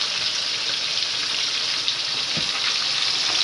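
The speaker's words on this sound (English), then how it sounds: "So that's how it looks when we're frying." Chicken fries in a pan during Sunday dinner cooking, a loud, steady bright sizzle that holds throughout with small pops, close by and with no talking.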